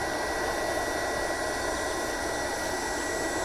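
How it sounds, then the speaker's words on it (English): Steady, broadband whirring from the cooling fan of an induction heater, constant and unbroken at moderate loudness with no voices over it. "sorry about the fan noise, that's just part of the operation of this unit."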